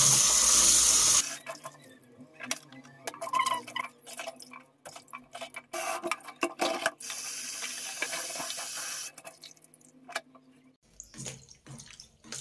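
Kimchi vegetables are rinsed under a running kitchen tap, water splashing steadily into a sink with handling clatter and brief pauses in the flow.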